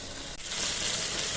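Small sarputi fish fry in a pan, and a brief clatter marks them being turned over before a loud, steady sizzle swells up and carries on close by.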